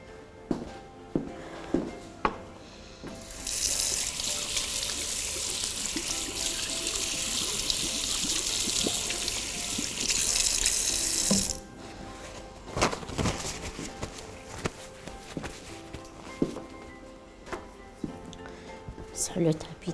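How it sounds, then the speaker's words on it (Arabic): Running tap water splashes into a kitchen sink as hands are washed during cookie baking, a steady broadband gush lasting about eight seconds and then cut off, with clinks and handling noises before and after and a voice speaking nearby. "نغسل يدي"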